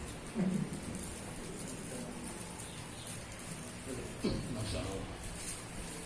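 Light drizzle falls during an outdoor gathering in hot weather, a faint steady patter of rain forming a continuous hiss in the background with brief voices and sounds breaking through.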